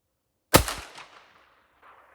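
A single loud gunshot from an Iver Johnson 1911A1 pistol chambered in .38 Super, fired outdoors at a range: one sharp crack after silence, followed by a ringing decay and a faint echo.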